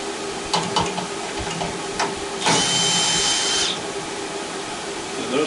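A power drill spinning screws out of a large microwave oven being scrapped, with short whirring bursts followed by a longer steady whine of about a second, amid clicks and handling noise.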